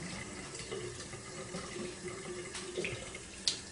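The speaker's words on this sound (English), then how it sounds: "Not so much of a rinse as more or less just a re-wetting of the face." Water splashing as a face is rinsed and re-wetted between passes of a straight razor shave, soft close splashes and trickling at low level with a small splash near the end, no voices.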